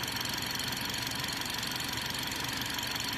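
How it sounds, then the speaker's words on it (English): A BMW i430 engine idles on all four cylinders after an ignition coil repair, giving a steady, even mechanical hum with a faint ticking texture, close and continuous with no talk. "So now we got this BMW i430 running on all 4 cylinders"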